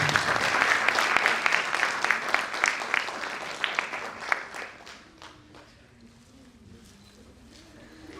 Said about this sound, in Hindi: और आप जोरदार तालियों से